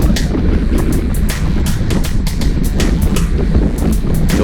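Loud, constant wind buffeting the microphone with a low roar and repeated gusty bursts while riding fast on a bicycle in a group ride over rolling terrain.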